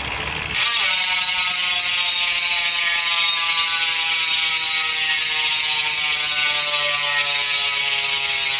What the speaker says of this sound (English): the last thing about these wheels I don't like is the hub sound. It's super loud.